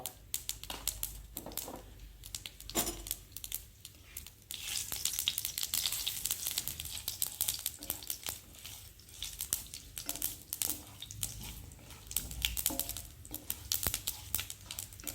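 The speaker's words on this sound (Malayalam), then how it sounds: "നന്നായിട്ട് പൊട്ടട്ടെ ഉലുവൊക്കെ" Mustard and fenugreek seeds splutter and crackle in hot oil, a dense, continuous sizzle with sharp popping bursts close up and loud throughout.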